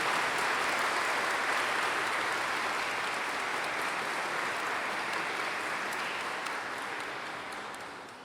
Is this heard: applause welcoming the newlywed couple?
yes